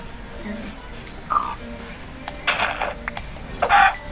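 A Minecraft chicken gives a few short clucks in bursts over a low steady background, fairly close and moderately loud.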